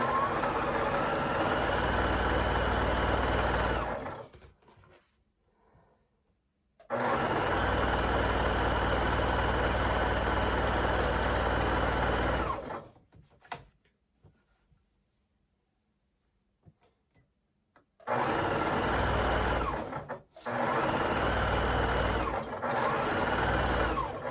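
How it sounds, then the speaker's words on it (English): A sewing machine stitching quarter-inch seams along both sides of half-square-triangle quilt squares runs in loud, steady bursts of whirring motor, with quiet pauses between the runs. "we are going to run it through the machine, and we're going to sew 1/4 of an inch on both sides"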